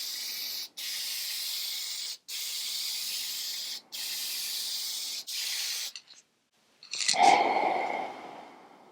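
Lacquer toner sprayed onto furniture in repeated steady hissing bursts separated by short pauses, with a louder, closer spray blast after a brief silence near the end.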